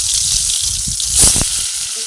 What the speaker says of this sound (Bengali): তেলের মধ্যে দিয়ে ভেজে নিচ্ছি।